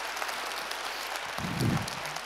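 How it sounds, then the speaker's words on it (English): A crowd at a DUST 514 keynote at Fanfest 2014 claps in a short burst of applause, steady and fairly distant, swelling briefly near the end. "Big round of applause for Pyrex and Trouble."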